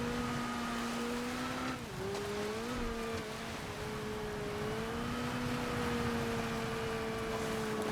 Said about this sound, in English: I'm driving one of my all-time favorite rally cars